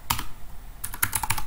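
Keys clatter on a computer keyboard as a password is typed at a Linux terminal during a sudo command: one short burst of taps, a pause, then a quicker run of close, crisp keystrokes.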